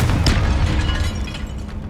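Confringo fire spell blasting in Hogwarts Legacy on PS5, a loud, booming burst that rolls on as a sustained rumble for about two seconds, with no voices over it.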